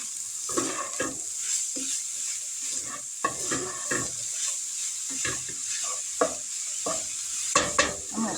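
Black beans being stirred through a sizzling pan while making a burrito casserole, with a steady frying hiss and repeated scraping, clattering strokes of a utensil close by.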